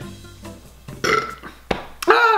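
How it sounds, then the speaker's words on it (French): A loud, close belch after drinking beer, then a second short croaky burp as the clip ends, with voice-like sounds in between. "Je viens d'avoir un premier rot. C'est ça que ça fait la bière."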